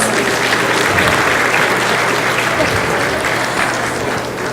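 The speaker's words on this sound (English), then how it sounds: "can we give her a round of applause for her beautiful performance" Steady, loud applause from an audience filling a hall at a Nowruz celebration event after a woman's performance, continuous dense clapping with no talk over it.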